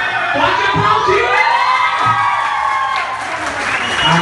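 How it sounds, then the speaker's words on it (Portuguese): Party crowd at a baby shower in Campinas with a drag performer hosting bursts into applause, cheers and whoops, with excited shouting voices mixed through the clapping at a loud, lively level. "Pode aplaudir!"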